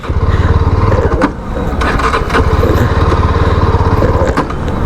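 A Yezdi Scrambler motorcycle pulls in third gear while its low-end torque is tested, a loud close engine drone with a pulsing exhaust note and a brief dip near the second mark before it steadies again.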